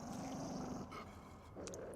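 Low, rumbling growl from a living guard dog in the video game INSIDE, a steady close snarl for about a second that fades, followed by a short higher rasp near the end.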